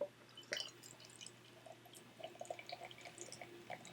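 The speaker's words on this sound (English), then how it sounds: "let's get this in the glass." Founders KBS Maple Mackinac Fudge beer poured from a bottle into a glass, soft trickling and dripping with faint fizz, quiet and close.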